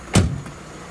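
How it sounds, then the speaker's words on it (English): A single solid thump as the door of a Vauxhall Astra F GLS 1.6 16V saloon swings shut, close and fairly loud, followed by a short fading rattle and quiet. "Nice sturdy thump when you shut the door"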